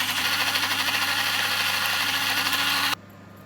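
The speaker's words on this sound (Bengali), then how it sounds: "পানি সহ আমি ব্লেন্ডার করে লইলাম" An electric blender grinds soaked rice with water in a loud, steady whirring roar for about three seconds, then cuts off abruptly into near quiet.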